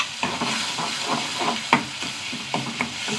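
Chutney poured into a smoking hot pan with dried red chillies and curry leaves crackles and sizzles loudly and continuously, with light stirring scrapes near at hand and no talking.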